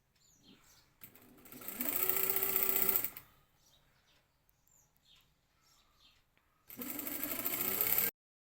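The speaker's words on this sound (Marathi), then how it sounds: "अशी 2 वेळा दुमडून ही शिलाई मारून घेणे पहिल्यांदा." Sewing machine stitching a twice-folded hem on a ruffled blouse, two loud bursts of steady whirring separated by a quiet pause with faint handling noises.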